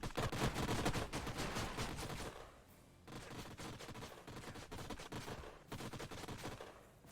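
Turrets fire repeatedly in the Age of Wonders Planetfall strategy game, producing dense bursts of rapid gunfire. The volleys come in three clusters separated by brief lulls, loud and close, with no voices.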